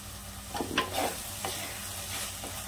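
Sprouted moth beans being sautéed in masala in a single pot for a Kolhapuri misal, with a soft sizzle and a few scraping stirs of a spoon, fairly quiet and with no voices.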